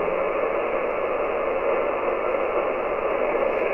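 Radio static hiss on the 40 meter amateur band through a QMX+ transceiver, a steady, even rush of noise with no signal or voice, filling the whole stretch.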